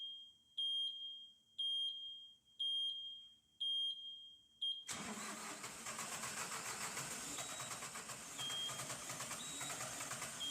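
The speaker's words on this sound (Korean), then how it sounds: "크랭킹 초기에 실린더 내에 폭발이 발생하나 엔진 회전 속도가 상승하다가 급격히 떨어지면서 시동이 되지 않습니다" A diesel engine with a broken EGR poppet valve is cranked and fails to start. A run of evenly spaced electronic beeps comes first, then a loud, steady, rough cranking roar continues to the end.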